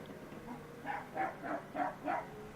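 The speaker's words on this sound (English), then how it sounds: "I didn't know your cats are barking, Roy." A dog barks five times in a quick, evenly spaced series, moderately loud and a little distant, with no talk over it.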